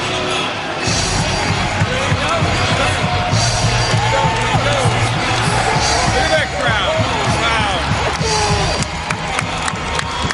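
A huge crowd at the 2021 NFL Draft in Cleveland roars and cheers in a dense, continuous wash of voices that stays loud throughout.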